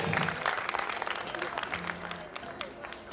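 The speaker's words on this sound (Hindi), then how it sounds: "जोरदार तालियां हो जाए उनके लिए" Audience applause at a sangeet celebration after a performance, a moderately loud wash of many hands clapping with some crowd voices mixed in, fading slightly toward the end.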